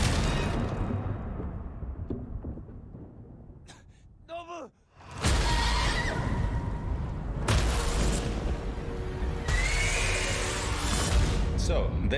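A horse in the video game Ghost of Tsushima gives a short, wavering neigh midway through, surrounded by loud stormy rushing noise and booms, with a voice talking over parts of it.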